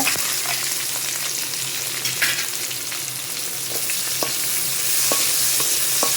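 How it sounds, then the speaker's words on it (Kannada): Onion and urad dal fry for a spinach palya, making a loud, continuous sizzle close up, with scraping stir strokes and occasional clicks of a spoon on the pan. "ಇವಾಗ ಇದಕ್ಕೆ ಆನಿಯನ್ ಹಾಕ್ಕೊಳ್ಳೋಣ."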